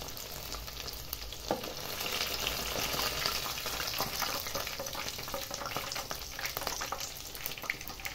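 Chicken sauté pieces frying in hot oil in a pan, Bengali style, give a steady, dense sizzle that runs throughout, with occasional crackles and light scraping as the pieces are stirred.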